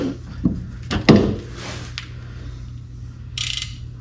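A ratchet clicks while tightening a bolt on the rear subframe of a Mazdaspeed3, giving a few sharp mechanical clicks and clunks close by, then quieter metallic handling.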